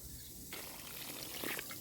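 Water poured from a container into a 10 cm deep planting hole in warm garden soil, filling it for white eggplant seedlings; a steady, close rushing splash begins partway in and continues to the end.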